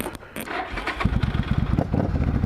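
A Suzuki Marauder VZ800 motorcycle engine cranks and catches, then settles into a close, loud, lumpy pulsing idle.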